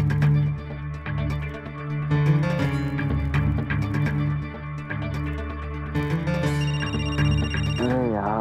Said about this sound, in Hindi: सोने भी नहीं देते, किसका फोन है?